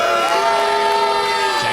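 A wrestling crowd at a no-disqualification match roars with sustained, loud, dense jeering from the whole arena.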